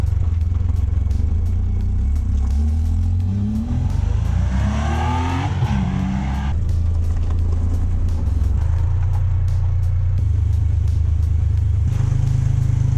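A 35-year-old Honda Goldwing motorcycle on the highway, with a steady, loud engine drone and wind roar throughout, rising through a clear acceleration sweep midway before settling back to cruising.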